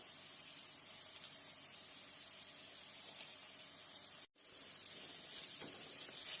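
Fish masala for a sardine curry frying in a pan: a soft, steady sizzling hiss, quiet and continuous, broken by one brief dropout near the end.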